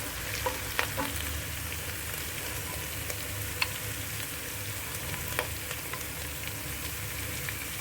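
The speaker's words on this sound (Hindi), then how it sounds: "और गुड़ को अच्छे से पिघलने तक पकाएंगे।" Jaggery and vinegar sizzle and bubble in a pan while being cooked down for a sweet-and-sour carrot, cauliflower and turnip pickle; a steady soft fry with occasional small pops and stirring clicks, close and alone.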